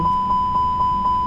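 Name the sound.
cockpit warning beeping in Microsoft Flight Simulator 2020 video game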